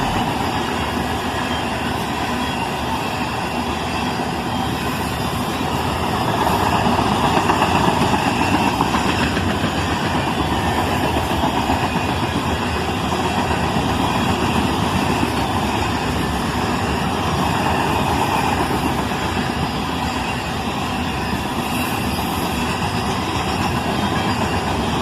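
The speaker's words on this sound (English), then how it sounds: "As he got into town right before he came into my vision, you could hear him throttle up." Freight train locomotives, including Canadian Pacific, Norfolk Southern and BNSF units, throttle up with a steady, loud diesel engine drone and rumbling rail noise that swells around the middle and holds without pause.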